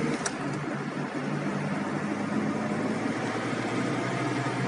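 A Tofaş Doğan SLX car engine pulls steadily after an upshift, with a continuous mid-range drone and road noise heard from inside the cabin.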